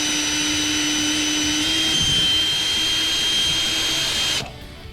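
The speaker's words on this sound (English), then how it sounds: "pilot holes are drilled" A power drill runs steadily at close range, boring straight-down pilot holes to mount a gunwale footrest on a Sea-Doo watercraft, then winds down abruptly near the end.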